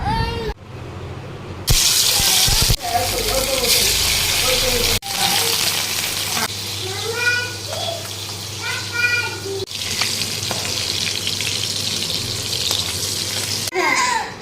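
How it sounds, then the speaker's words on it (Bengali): Fish sizzling as it fries in a pan, a steady loud hiss broken by brief pauses, with voices, including a child's, chatting over it. "এখন মাছ ভাজবো, মাছ ভেজে মাম্মাকে খেতে দেবো"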